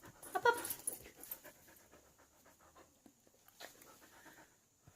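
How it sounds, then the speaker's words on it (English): A dog pants quickly and whimpers indoors, close and fairly quiet, with a brief burst of louder breathing and rustling near the start, then soft intermittent panting. "Hudson, my dog is bugging my kitty"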